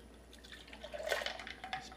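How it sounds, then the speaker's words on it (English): A drink is poured into a Tervis cup, liquid splashing and trickling faintly over ice for a couple of seconds, close and quiet, with no voices. "Just pour that."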